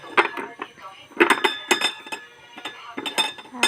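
A metal idli stand clinks and rattles as it is oiled, with several sharp metallic chinks in uneven bursts, close and fairly loud, separated by brief quieter gaps.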